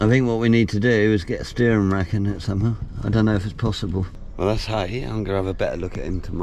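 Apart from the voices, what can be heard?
No distinct noise like a dog, phone or traffic.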